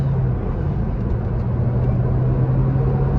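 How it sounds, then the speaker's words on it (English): An Audi A3 2.0T fitted with a RaceChip GTS tune drones steadily and loudly while rev matching into fourth gear, a close, constant engine tone with no talking. "Let's rev match into 4th."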